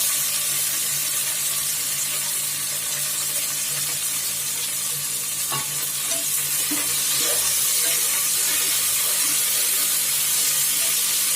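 Mint and coriander sautéed with golden fried onions in a home pressure cooker, giving a loud, steady frying hiss throughout with occasional faint stirring clicks.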